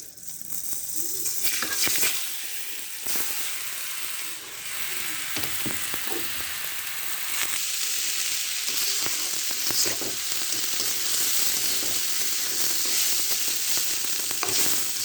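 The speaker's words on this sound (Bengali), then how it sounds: "ভালোভাবে আমি ভেজে নেব।" Raw rice fries in oil in a wok for biryani. A continuous crackling sizzle is broken by repeated scraping stirs and short rattles, and it stays close and fairly loud throughout.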